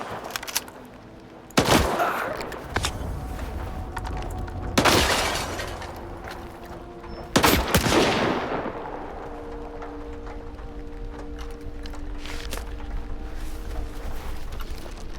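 Bursts of gunfire from the video game S.T.A.L.K.E.R. 2 ring out in three loud, sharp volleys with echoing tails, separated by quieter stretches of ambient rumble.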